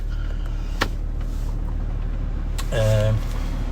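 A 2017 Ford Ranger Wildtrak with the 3.2 TDCi diesel idles in a steady low rumble with harmonic drone, a brief knock near the start and a short louder tonal swell near the end, heard from close by.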